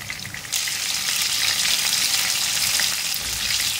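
Minced meat kebabs fry in hot oil with a dense, bright sizzle that swells after a brief quieter start and holds steady, close and alone.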